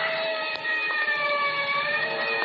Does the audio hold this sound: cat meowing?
no